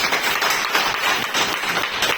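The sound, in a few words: audience clapping loudly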